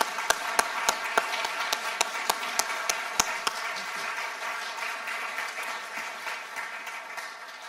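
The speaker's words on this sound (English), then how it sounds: "If we can have one more round of applause for Nancy." A concert audience applauds steadily, with a few sharp, loud claps standing out near the start before the clapping settles into an even patter.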